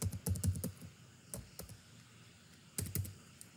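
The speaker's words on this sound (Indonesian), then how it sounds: "Kemudian saya buat titik dua, kemudian saya tekan enter." Keystrokes on a computer keyboard while entering text in Microsoft Excel, a quick burst of clicks at the start, a couple of isolated taps mid-way and another short flurry near the end, close and moderately loud.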